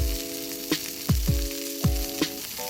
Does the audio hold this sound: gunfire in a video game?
no